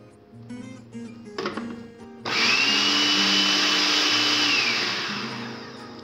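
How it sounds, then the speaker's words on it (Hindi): An electric chopper whirs loudly and steadily for several seconds, blitzing onion, mint, coriander and green chillies, starting abruptly after some quieter kitchen sounds and easing off toward the end. "पहले इन सबको डालकर हम अच्छी तरह से चॉप कर लेंगे"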